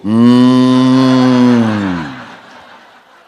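A voice imitates a cow mooing, one long sustained low bellow that holds steady and then trails off over about three seconds, loud and close.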